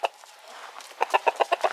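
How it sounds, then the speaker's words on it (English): A single chicken clucks nearby in a run of short, evenly spaced clucks that quicken toward the end, with no talk over it. "Yeah, you just give me the sideways look, you devil chicken."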